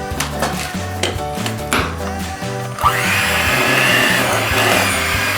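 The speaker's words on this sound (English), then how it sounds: "once it's kind of incorporated, I will move now to using my mixer." Electric hand mixer beating red velvet bar batter in a bowl, a steady close motor whir with rattling beaters that grows denser and louder partway through.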